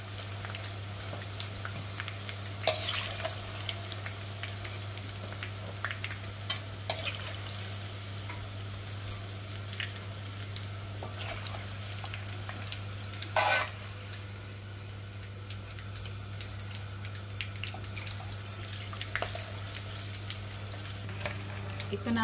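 Long beans fry in hot oil with a soft, continuous sizzle and occasional stirring clinks, close and moderately quiet over a steady low hum.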